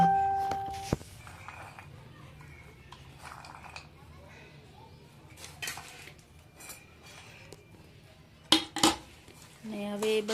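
Dabeli filling, topped with fine sev and pomegranate seeds, being stirred in a dish with a utensil: quiet scraping and clinks run throughout, with a few sharper knocks near the end, under light background noise.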